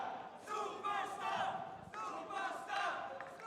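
An esports arena crowd at a Call of Duty Modern Warfare 3 match between OpTic Gaming and Cloud9 chants and shouts in loud surging waves, with a commentator's voice partly audible under the noise.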